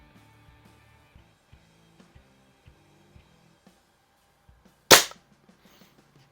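A single loud, sharp report from a freshly tuned Crosman Summit air rifle, close by, cutting through a quiet background of faint, regular ticking and tapping.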